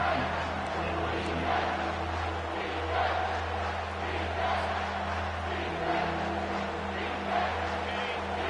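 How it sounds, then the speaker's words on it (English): Stadium crowd roaring at a college football game featuring the Buffaloes, a dense, loud wall of sustained cheering and noise that stays steady throughout, with indistinct voices mixed into the din. "this crowd is tearing the lid off this place"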